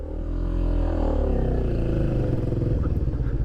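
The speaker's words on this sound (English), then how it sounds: "to start the bike, just turn on the ignition on the right hand side, make sure the fuel is on, clutch in, and away she goes." A 1994 Honda Magna 250 V-twin cruiser motorcycle fires up and settles into a steady, loud, close idle with a throbbing low rumble that holds for several seconds, no talking over it.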